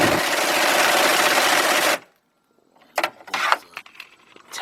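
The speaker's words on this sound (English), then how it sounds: "These bolts right here is 18 millimeter. So we got our air gun." An air impact gun spins on 18 mm bolts on a 2002 Jeep Grand Cherokee, a loud continuous buzzing rattle for about two seconds before cutting off, followed by a pause and scattered clanks and handling noises.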